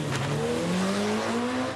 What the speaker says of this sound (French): Pierre Joly qui a troqué la R5 Alpine pour cette toute nouvelle Formule Renault